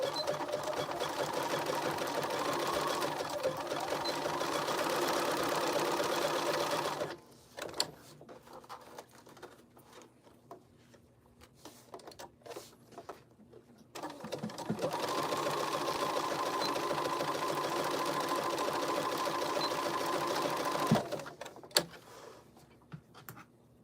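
A sewing machine runs a zigzag stitch in two long steady whirring passages separated by a quieter pause with faint handling noises, close and even.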